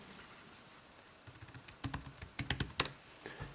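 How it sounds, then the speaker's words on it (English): Typing on the keyboard dock of an Asus Transformer Prime tablet: a quiet, irregular burst of plasticky key taps that starts after a short pause and patters unevenly for about two seconds, heard close up. "if we want to use the keyboard, just start typing in."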